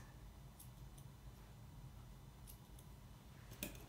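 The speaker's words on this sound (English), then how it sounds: "put my scissors across" Scissors trimming a Havanese dog's hair, a few faint, quick snips scattered across a quiet stretch, with a sharper, slightly louder cut near the end.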